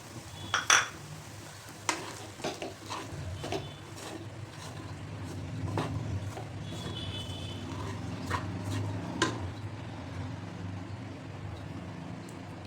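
Sago pearls and crushed peanut powder are added to cooked potato in a pan and stirred, making scattered close metallic clinks and scrapes over a low background hum, sharper at the start and softer later.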